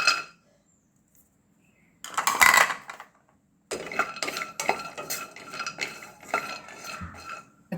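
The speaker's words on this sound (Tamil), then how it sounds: "ஏலக்காய் எல்லாத்தையும் சேர்த்து வறுத்துக்கலாம்." Pistachios, cashews and cardamom are stirred in a dry pan, giving bursts of close rattling and scraping clinks broken by short pauses, with no talk.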